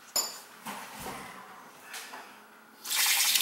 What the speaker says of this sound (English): Let's see if we get a flow up through this thing.